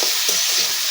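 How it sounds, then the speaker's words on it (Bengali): Potatoes sizzle steadily in hot cooking oil with black cumin seeds in a Bengali home kitchen, a continuous close hiss with faint stirring and no talking. "এখন আমি আলুগুলো দিয়ে দিব তেলের মধ্যে"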